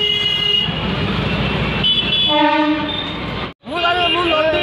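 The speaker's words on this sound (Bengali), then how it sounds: "সামনেই লোকাল ট্রেন যাচ্ছে, যেটা হচ্ছে কলকাতা চক্ররেল।" A Kolkata Chakra Rail local train passes near Babughat, a loud rumbling roar with sustained horn tones sounding over it, brief muffled dropout, then the horn returning amid outdoor bustle.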